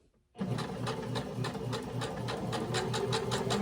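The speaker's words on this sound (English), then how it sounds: "Just going to stitch all the way around, closing up that opening and making a nice top stitch on our project." Sewing machine top-stitching all the way around a fabric napkin ring, a steady close, loud mechanical needle rhythm running continuously after a brief quiet start.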